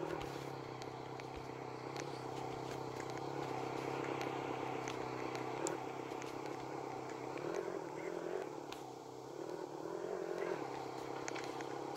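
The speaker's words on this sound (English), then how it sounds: "I really drove my motorcycle inside the house." A video game motorcycle engine in Brookhaven hums steadily beneath faint murmuring voices, with scattered clicks and clatters over a constant low drone.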